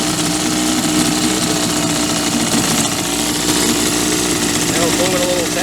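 A 1952 Champion hydro drive outboard motor runs steadily on an Old Town square-stern boat, a continuous loud mechanical drone at low speed, with no break in the sound.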